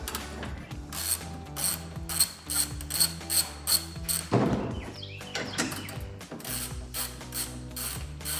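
A ratchet clicks through rapid bursts while removing 10 mm grille bolts on a 2007-2014 Silverado 2500 truck, with loud close rhythmic pawl ticks repeating in short runs and a few metallic thunks between.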